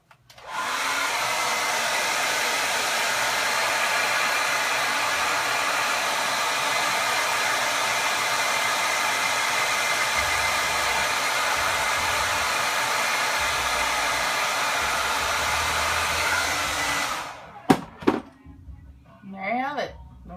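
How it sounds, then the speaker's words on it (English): A hair dryer blows steadily and loudly for about seventeen seconds, a constant rushing whoosh, then clicks off, followed by a few brief handling noises. "Then we go and do the blow dryer."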